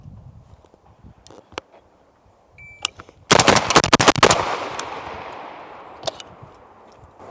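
A PSA JAKL rifle with a 13.7-inch barrel fires a rapid, loud burst of shots close by, followed by a fading echo and a single later crack, with a few faint clicks before.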